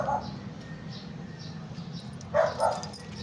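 A dog under a vehicle gives a couple of short muffled barks or yips from a short distance, separated by a pause, over low background hum.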